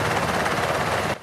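Black Hawk rescue helicopter carrying an injured hiker, a loud, close, continuous rotor chop that cuts off abruptly at the end, with no talk.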